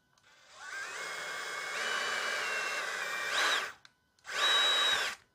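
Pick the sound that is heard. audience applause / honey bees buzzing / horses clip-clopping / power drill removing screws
power drill removing screws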